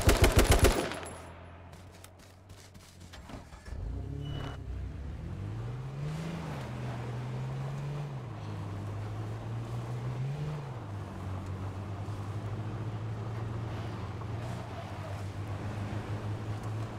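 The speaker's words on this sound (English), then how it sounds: "Yep, a vehicle just started." In the game H1Z1, a vehicle engine cranks and starts after a loud burst at the opening, then settles into a steady droning idle with a couple of rising revs, no one talking.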